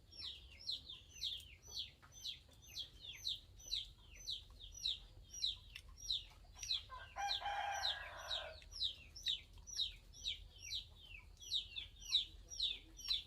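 Chickens cluck and a rooster crows repeatedly at a rural Thai home. The calls come in a steady run of sharp, mid-distance bursts, with a brief louder noisy patch midway.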